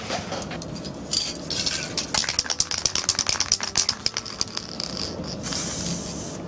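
Varnish sprays from an aerosol onto scale model trees: a close, continuous hiss with a burst of quick, dense rattling clicks through the middle, then smooth spraying again, with no voices.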